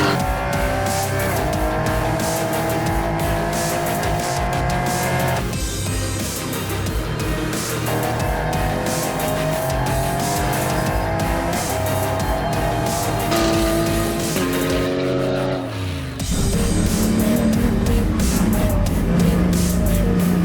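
Porsche Cayman GT4 Clubsport race car driving hard on a track, its engine loud and continuous as it climbs and drops through gear changes, with a brief lift near the end before pulling strongly again.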